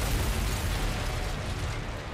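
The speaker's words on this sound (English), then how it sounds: "All these explosions." Explosions in an action video game merge into a dense, continuous roar of booming bursts and rumble, loud and close, with no talking over them.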